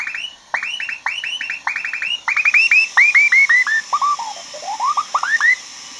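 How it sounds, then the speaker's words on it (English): Two Morse code stations come through a homebrew 14-18 MHz shortwave receiver as rapid trains of clear beeping tones, one pitch sliding downward partway through while the keyed bursts continue, loud and without speech. "You hear two morse stations."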